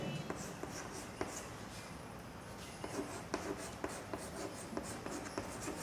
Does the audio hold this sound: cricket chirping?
no